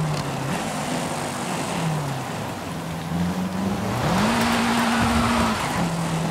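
A car engine in a tunnel in Forza Horizon 5 roars and echoes, its pitch rising as it revs through gears, with a hollow, reverberant rush of road noise all around.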